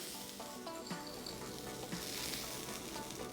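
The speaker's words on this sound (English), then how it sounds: "When it hits the soup, it should go pop." A dense crackling sizzle with scattered pops, like hot crispy Calrose rice landing in seafood soup, steady and close for a few seconds.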